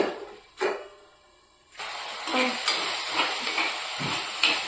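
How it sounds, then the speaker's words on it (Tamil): Tomatoes with rock salt cooking in a pan, starting quiet with a couple of knocks, then a steady bright sizzle with stirring scrapes and occasional utensil clinks against the pan. "கல்லுப்பு, தக்காளி வேகட்டும், அடைச்சி வச்சு"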